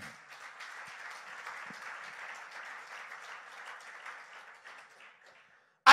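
A church congregation applauds for the King of Kings, a steady broad wash of many hands clapping that holds for about five seconds and then fades out, ending with one sharp loud knock at the very close.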